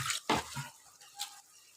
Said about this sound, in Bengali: থালা ধুয়ে একটু জল দিয়ে দিলাম